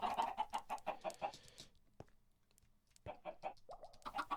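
Chickens cluck in bursts inside a Minecraft automatic chicken cooker, a dense run of short calls, then a near-silent gap with a single click, then more clucking picking up toward the end.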